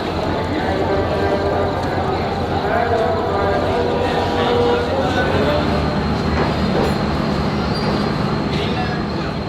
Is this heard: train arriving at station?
yes